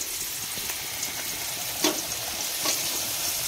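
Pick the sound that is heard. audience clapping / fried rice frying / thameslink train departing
fried rice frying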